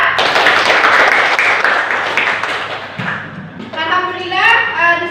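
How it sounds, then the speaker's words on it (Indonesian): Classroom applause for a student group, with dense clapping and thumps that trail off after about three seconds, followed by children talking and chattering nearby. "Beri tepuk tangan untuk kelompok 3."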